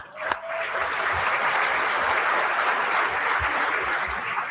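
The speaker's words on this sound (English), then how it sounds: "Give him a big round of applause." An audience at a business commercial real estate forum gives a speaker a round of applause, thick sustained clapping that swells quickly after a sharp opening click and holds at a strong, steady level throughout.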